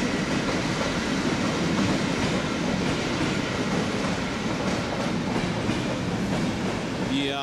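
Jantar passenger train hauled by an EU160 electric locomotive rolling past near Warszawa Gdańska station, a loud, sustained close rumble of wheels and carriages with faint rhythmic clatter throughout.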